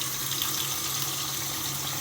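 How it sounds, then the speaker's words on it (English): Water runs from a tap into a bowl in a loud, continuous, even gush, close up, with no voices. "Fill it up with some water."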